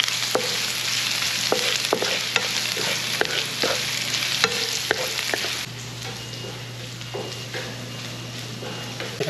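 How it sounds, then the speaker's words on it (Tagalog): Garlic and ginger sauté in hot oil with a steady, dense sizzle, punctuated by sharp clicks of a utensil stirring against the pan, the frying easing slightly toward the end. "brown na po yung ating bawang at luya"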